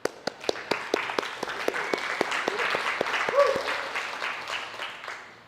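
An audience at a Sunday service at CSL Kauai, a spiritual center, breaks into light applause: a steady run of distinct, crisp claps from a small group, fairly close, with a faint voice underneath.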